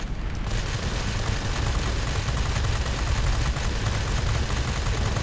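Aircraft machine guns fire in a World of Warplanes dogfight, a dense, loud, unbroken roar of rapid gunfire that lasts from start to finish.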